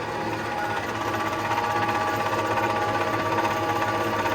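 Two MP-100 and MP-200 oil presses with 4 kW and 7.5 kW motors run together, a close, steady mechanical drone with a fast rhythmic clatter, continuous and without talk.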